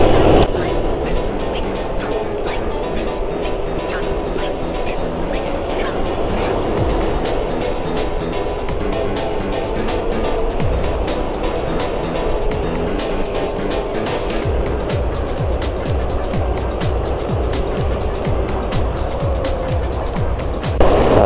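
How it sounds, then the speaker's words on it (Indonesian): Morning traffic jam on Jalan Pangeran Antasari in Bandar Lampung, with a continuous rumble of nearby engines, motorbikes revving and vehicles creeping past on a slick road, while someone talks over it. "Ini adalah kemacetan ketiga di Jalan Pangeran Antasari."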